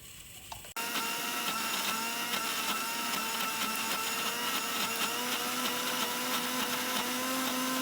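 A mixer grinder whirs steadily and loudly as it grinds coconut chutney with salt and a little water, starting abruptly after a brief quiet moment and running continuously with a rising harmonic whine.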